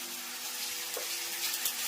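Mustard seeds and cumin sizzling in hot oil for a tempering of radish pods, a steady faint hiss and crackle of frying with small pops, no voices.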